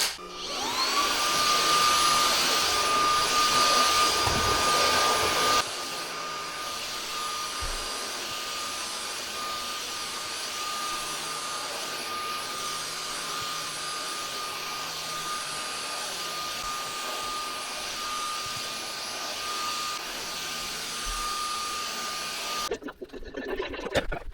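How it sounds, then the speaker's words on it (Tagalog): A vacuum cleaner runs continuously with a steady high whine and loud rushing airflow, close by, dropping slightly in pitch partway through before cutting off. "Vacuum tayo guys."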